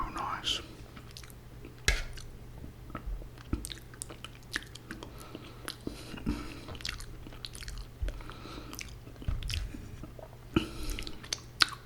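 Close, soft chewing and biting while eating Indian food for lunch in an ASMR setting, with moist squishes and occasional crunches recurring irregularly over a quiet background.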